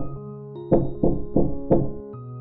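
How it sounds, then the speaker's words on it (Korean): Four firm knocks on a wooden door land in an even rhythm over a soft sustained music bed, close and distinct, as a story sound effect. "그리고 할머니 집을 문을 두드립니다."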